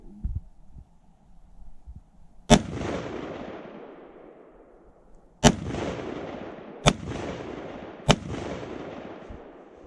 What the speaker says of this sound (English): Fired a few shots here.